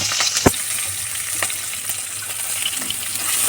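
Chopped onions and green chilies sizzle in hot oil with turmeric, a steady loud frying hiss with a sharp stirring clatter near the start, no talking.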